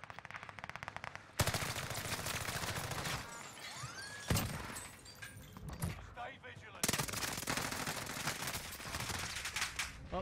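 A PPSh submachine gun fires in Warzone, long rapid automatic bursts broken by short pauses and single loud shots, with voices talking in between.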